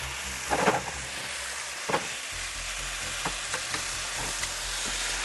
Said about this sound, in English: While the bacon's cooking